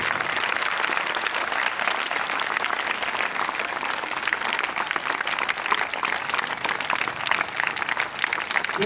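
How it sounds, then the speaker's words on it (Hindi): An audience at a school annual prize distribution and cultural ceremony claps loudly for the parents, dense, steady applause that continues evenly from start to finish. "जितने भी पेरेंट्स हमारे बीच में पहुंचे हैं उन सब के लिए जोरदार"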